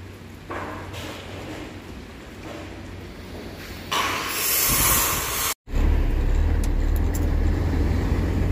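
A car crossing a river ford in the Altai gives a steady engine rumble, then a louder rush of churning water for a second or so before a brief cut and the engine drone returns.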